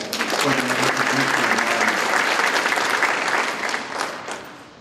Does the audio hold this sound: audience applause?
yes